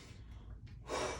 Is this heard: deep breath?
yes